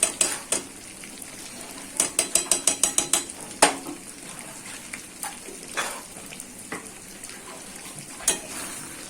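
Ghee goes into potol korma (pointed gourd curry) sizzling in a pan, with a steady frying hiss, a quick run of metallic clicks and scattered clinks of a spoon against the pan.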